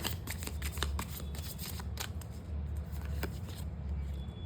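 Tarot cards are shuffled and handled at close range, giving a dense run of crisp flicks and riffles over a low background hum, with no clear talk.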